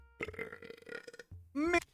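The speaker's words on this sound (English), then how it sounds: "The fucking burping into the mic." Someone burps loudly and close into a microphone, a long rumbling belch followed by a rising, drawn-out burp after a short gap.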